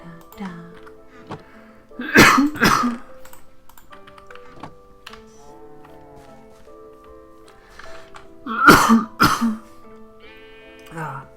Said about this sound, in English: I have a bad cough since yesterday